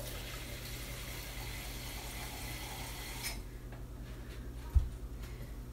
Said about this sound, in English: you're going to add the water in, right? A little bit more water